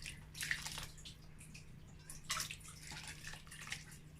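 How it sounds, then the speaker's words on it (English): Water is poured into a cooking pan and swirled to rinse it, producing soft splashes and sloshing in a few brief bursts over a low steady hum, quiet and close. "I'm going to add a little bit of water and rinse the pan."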